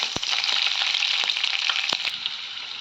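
Raisins, cashews and green chillies fry in hot oil in a pan, giving a steady close sizzle with a few sharp clicks of stirring, no voices.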